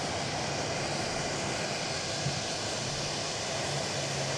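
A jet airliner bound for Rockford, Illinois, at DFW airport gives off a faint, even engine rumble and broadband hiss that holds steady across the whole stretch, with no talking.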